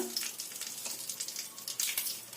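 Dried red chillies, bay leaves and whole mustard seeds frying in hot oil for a Bengali tempering, a close, steady sizzle with fine crackles and pops scattered throughout.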